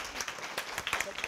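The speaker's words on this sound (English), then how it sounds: "So we'll give a big round of applause to Sue." Scattered audience clapping at a midwifery masterclass in Dublin welcomes a guest speaker; light, uneven claps come fairly faint, mixed with some background voices.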